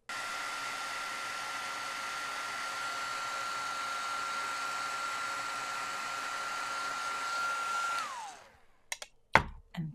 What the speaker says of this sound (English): I'll get my heat tool warmed up and melt the powder.